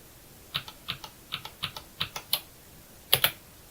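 Computer keyboard keys are pressed for WordPress Gutenberg shortcuts: about a dozen crisp, close clicks in irregular short groups, ending with a louder double press, with no talking.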